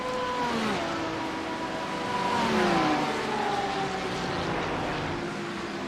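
GT3 race cars accelerating down the front straight in a sim racing game, several engines whining and shifting pitch together, loud and continuous with overlapping revving tones and no talk.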